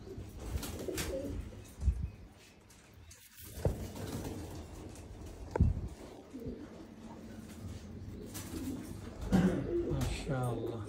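Pigeons coo close by in soft, repeated low calls, with bird chirps scattered through and someone talking over them at intervals.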